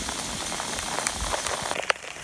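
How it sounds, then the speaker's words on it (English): Hail pounding down outdoors on a farm, a dense loud hiss of countless hard pellets striking surfaces, with a few sharper cracks near the end and no voices. "Absolutely hammering down with hail"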